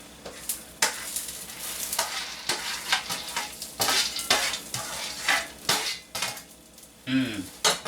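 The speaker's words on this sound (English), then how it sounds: "listen to that sizzle" Pine nuts sizzle and crackle in a hot pan, mixed with scraping and stirring clatter of a utensil against the pan, fairly close and continuous.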